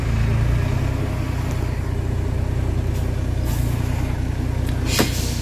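A loaded truck's engine idles steadily at a weighbridge, a continuous low rumble with brief hissy bursts like air brakes, no speech over it.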